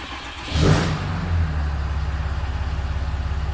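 A Ram 6.7 Cummins diesel engine fitted with a non-VGT turbo cranks and fires up with a loud burst, then settles into a steady, close, rhythmic idle clatter.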